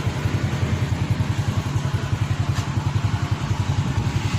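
An old Honda Astrea motorcycle engine runs steadily up close, its rapid, even putter of exhaust pulses repeating over a constant mechanical whir, with no voices.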